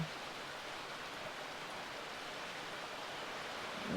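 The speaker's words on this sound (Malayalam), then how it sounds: "മഴ തുടങ്ങിയിട്ടുണ്ട് കേട്ടോ" Steady rain falls in an even, soft hiss, continuous and moderately quiet, with no voices.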